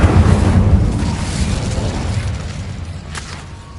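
An Incendio fire spell in the Hogwarts game bursts with a loud, deep whoosh that rumbles and slowly fades over several seconds, ending in a faint crackle.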